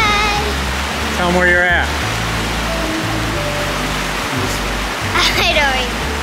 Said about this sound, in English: You enjoying the waterfall?